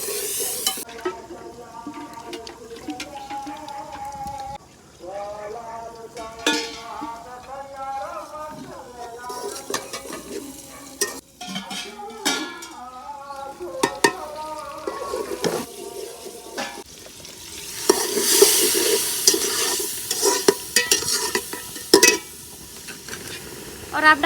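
Beef salan is stirred and fried in a pot. A steady sizzle runs throughout under repeated scraping and clinking from the spoon against the pot, and the frying swells louder near the end.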